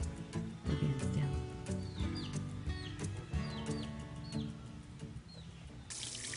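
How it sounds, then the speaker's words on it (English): Chickens and roosters cluck and call intermittently over running water from a hose spraying to cool an air-conditioning capacitor. "We're dodging the chickens and roosters today too."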